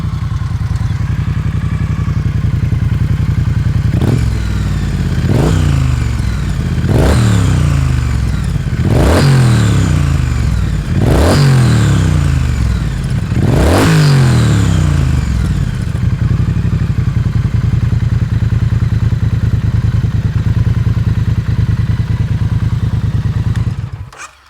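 A Triumph Street Twin motorcycle parked with its engine idling steadily, then blipped through five sharp, evenly spaced throttle revs with rising and falling exhaust note, before settling back to a loud, close idle with no speech.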